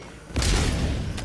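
Explosion in a shooter video game fighting robots and bugs: a single loud, broad blast bursts in after a short lull and rolls on as a sustained rumbling roar with a lighter crackle near the end.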